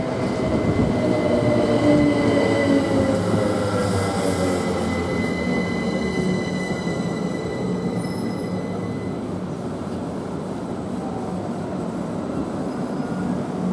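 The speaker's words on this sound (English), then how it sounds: "Now the Great Northern 1426 to London King's Cross is just now departing." A Great Northern class 387 electric train departs a station, a loud rolling rumble with squealing wheels and rising motor whine that gradually eases as it pulls away, heard alone without talk.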